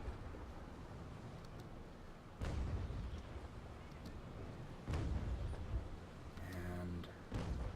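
Chain-shot cannon broadsides from a sailing warship in Naval Action, several heavy booms fired one at a time a couple of seconds apart, with rumbling decay between and a faint tonal sound near the end.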